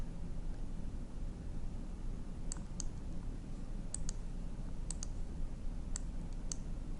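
A computer mouse clicks in a quiet room, sharp little taps mostly in close pairs, spread out over a steady background hiss.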